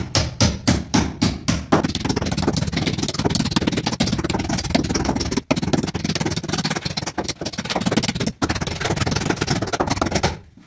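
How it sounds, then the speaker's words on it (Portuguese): A small hammer taps rapidly against a plaster wall, a quick burst of sharp strikes followed by continuous chipping and scraping noise. "Martelinho do Thor. Só faz aqui, ó."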